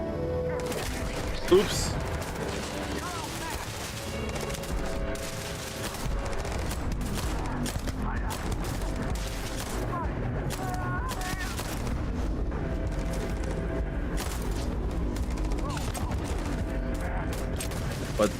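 Eon pistol gunfire in the space game Starfield, shots popping over dense game music and effects throughout, with a sharp burst early on and a brief spoken remark.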